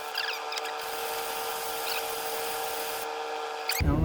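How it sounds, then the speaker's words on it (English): A hydro pump part from a 2012 Exmark Lazer E-series mower rubbed flat on 150 grit sandpaper, a continuous close scraping rasp with light pressure that shifts briefly near the end. "I'm going to take my sandpaper. I don't have anything better than 400, but I'm going to start with a 150 grit."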